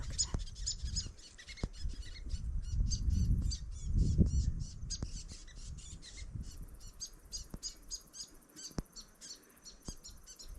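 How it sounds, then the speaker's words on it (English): Birds chirp and call intermittently over a low outdoor rumble near Geelong, Australia, with scattered sharp clicks and a busier burst of song later on. "Just stop to listen to the birds."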